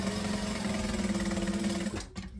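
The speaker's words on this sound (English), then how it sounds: "My sewing machine also sounds weird" A sewing machine hums with a rapid, steady mechanical stitching beat for about two seconds, then slows and stops.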